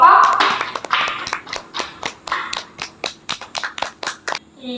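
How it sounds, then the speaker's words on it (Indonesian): Students in a classroom clap for presenting groups: a brief burst of mixed clapping, then a rhythmic series of about a dozen evenly spaced claps, with a voice at the start. "kita tepuk tangan dulu untuk semua kelompok"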